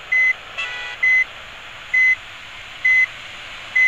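Reversing beeps of a Hino 500 truck in the game Bus Simulator Indonesia: a loud, steady high-pitched beep repeating about once a second, roughly five tones over a low engine hum.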